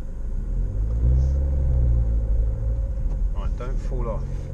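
A car passing close by a stopped vehicle, a low engine rumble swelling and fading over a few seconds, with voices talking over the end.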